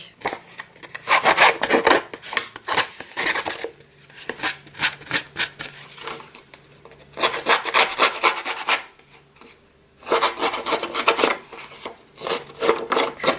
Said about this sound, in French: je vais bien user les bords et les ancrer